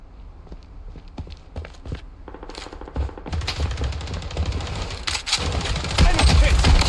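Rapid bursts of gunfire from the video game Fallen City Brawl, closely spaced and growing denser and louder toward the end, with game sounds layered over the shooting.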